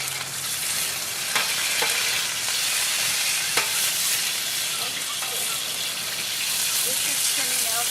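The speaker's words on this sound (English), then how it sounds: "Now this is getting seared. We want it nice and gold, a nice golden brown." Meat searing to golden brown in a paella pan gives a continuous loud sizzle with faint occasional stirring taps, close by and without talk.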